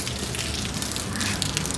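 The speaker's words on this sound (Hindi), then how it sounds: "ये हमारे छत से पानी गिर रहा है, हमारा टंकी ओवरफ्लो हो गया" Water from an overflowing tank pours off a roof, a steady dense splashing rush like heavy rain, loud and continuous throughout with no talking.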